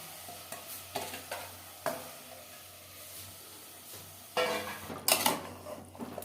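Mutton frying in mustard oil, with a soft continuous sizzle broken by intermittent spatula scrapes and taps against the pot, then a louder burst of stirring near the end.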